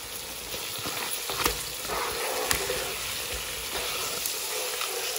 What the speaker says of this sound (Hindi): 1 टेबलस्पून जीरा था, वो भी इसमें जा रहा है ताकि ये भी अच्छी तरह से भुन जाए